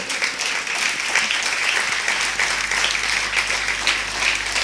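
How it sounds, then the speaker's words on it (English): An audience at a scientific hall event applauds Dr. B.M. Hegde with steady, sustained clapping, loud and continuous, with a low hum entering partway through. "Please give me a big round of applause for Dr. B.M. Hegde."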